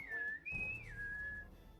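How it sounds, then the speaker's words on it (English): A person whistles alone in a quiet room at night, a few clear sustained tones with a rising slide in the middle, soft and close with faint background hiss. "Doesn't really like it when you whistle."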